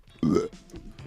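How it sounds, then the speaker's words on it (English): A single short, throaty burp bursts out loud and close, then fades into quiet. "Now that was a burp from a burp list."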